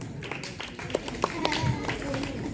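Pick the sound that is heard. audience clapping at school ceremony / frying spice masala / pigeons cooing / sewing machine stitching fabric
audience clapping at school ceremony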